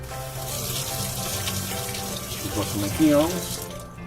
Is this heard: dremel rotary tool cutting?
no